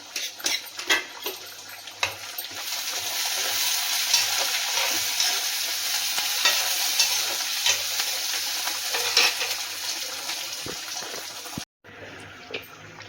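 Brinjal and green peas simmering in oil in a pot, a steady bright sizzle with occasional stirring scrapes, close, ending in an abrupt cut.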